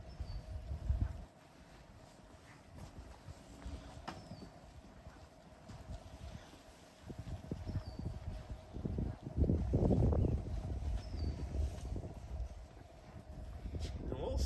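A horse moves around its stable at Claiborne Farm, hooves clip-clopping in irregular steps at close to middle distance, with heavier shuffling near the end and a person talking over it.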